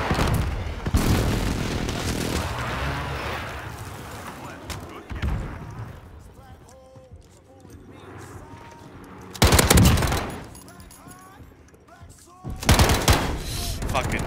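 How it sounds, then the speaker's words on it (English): Video game battle sounds with gunfire bursts and heavy airstrike explosions, loud booms near the start, middle and end between stretches of scattered shots, with players talking over the action. "Another airstrike on it."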